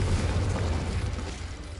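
A fiery blast spell in Hogwarts Legacy lands as a steady, rumbling explosion roar that fills the short moment, heavy in the low end and with no voices over it.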